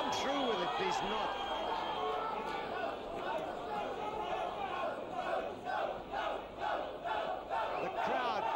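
A boxing crowd at a world title fight between Sam Stewart and Mbuelo Botile, calling out to Botile: a loud, steady roar of many voices shouting and chanting, with swelling cries throughout.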